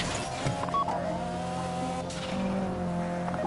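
In a video game, a car drives hard during a bank heist, its engine droning steadily while tires squeal and skid in long sustained tones, loud and close.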